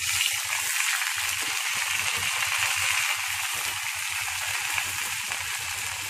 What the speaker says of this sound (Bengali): সরিষার তেলটা দিয়ে আমার তেলটা এই গরম হয়ে আসছে, তো এখন আমি কারকলগুলো দিয়ে দেব।